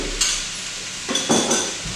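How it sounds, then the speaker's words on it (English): Tomato puree is stirred into dry spices in a pan, with close scraping spoon strokes and soft sizzling, broken by a few louder scrapes and clinks against the metal. "So I'm stirring in my tomato puree."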